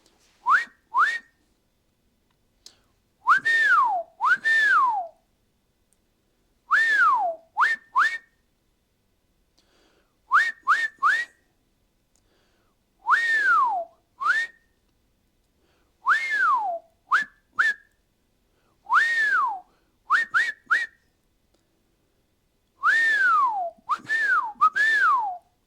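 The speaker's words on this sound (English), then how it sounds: "So let's go over our whistle signals." Repeated dogman crane signals blown on a whistle, clear close blasts in groups: short chirps and long falling tones, pausing between sets, with no voices.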